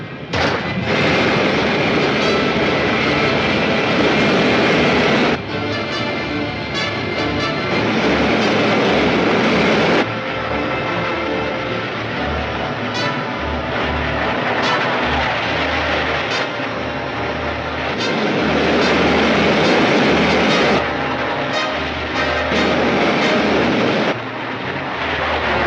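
A main rocket fires with a loud, sustained roar that fills the whole stretch, surging and dropping in intensity with a few abrupt breaks, heavy and close with no voices.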